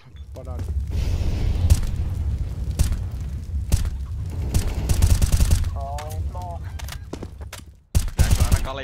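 Gunfire in CS:GO, rapid bursts of shots and booms clustered close together with brief pauses, while players talk over the action.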